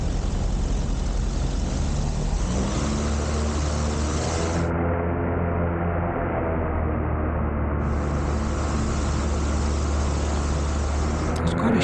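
A light aircraft taxis out toward the runway, its propeller engine giving a steady loud drone with a low throbbing hum that carries on unbroken and without voices.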